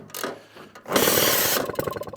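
Vintage Atco kick-start lawn mower with a Villiers Midget engine on choke catches and fires, a sudden loud broadband roar that runs steadily for a moment, then sputters unevenly, close up.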